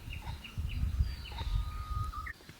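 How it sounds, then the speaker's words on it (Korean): Birds sing along a forest trail among fir trees in Jeju, with scattered high chirps and short calls over a low rumble of walking and outdoor noise. "아 새소리 너무 좋다"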